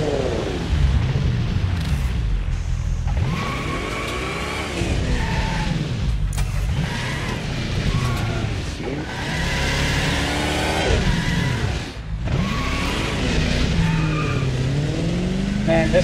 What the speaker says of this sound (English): Man, this car is loud.